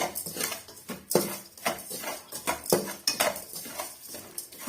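Rock salt and spices dry roasting in a pan for instant rasam mix, stirred with a utensil: close, fairly loud scraping and clattering strokes repeating irregularly, with gritty rattles between them and no talking.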